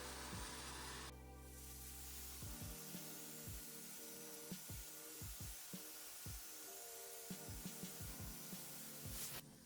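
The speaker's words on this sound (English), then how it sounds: "When spraying the front trim pieces, I like to adjust my nozzle so that I have the small spray pattern." A paint spray gun hisses continuously while coating mahogany trim, a broad steady airy spray close by, with intermittent light knocks and handling clicks as the trim is worked.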